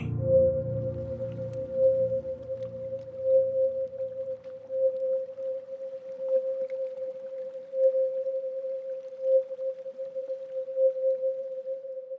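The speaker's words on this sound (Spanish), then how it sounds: "Frecuencia de 528 Hz." A steady pure 528 Hz tone holds unbroken and even in loudness throughout, with a faint low hum fading out in the first few seconds.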